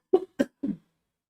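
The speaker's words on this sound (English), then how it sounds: "having a bit of cough as well." Three short, harsh coughs in quick succession from a nearby person, close and dry, followed by silence.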